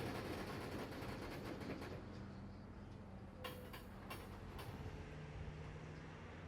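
Freight train K422 glides toward a stop, a faint, distant rumble of rolling railcars with soft rattling and a few brief squeals, with no talking.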